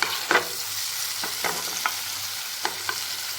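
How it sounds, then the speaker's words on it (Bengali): Prawns are flipped in a pan of hot mustard oil, with a few sharp spatula scrapes and taps over a continuous bright sizzle, close and loud. "এক পাশ ভাজা হয়ে গেলে আমি মাছগুলোর পাশ উল্টে দিচ্ছি"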